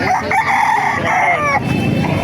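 A Brushback rooster crows loudly nearby at a Bulacan chicken market, one full drawn-out call with a rising then falling cry.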